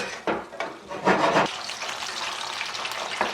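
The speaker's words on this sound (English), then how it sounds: "adding the pieces of pork to some hot vegetable oil here" Pieces of pork drop into hot vegetable oil with a bursting sizzle, then a steady crackling fry continues close by, with a faint clink near the end.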